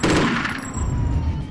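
Burst-fire weapon shooting in the video game Chaser: rapid, loud back-to-back gunshots packed into a tight burst at the start, followed by a decaying rumble and a faint high ring.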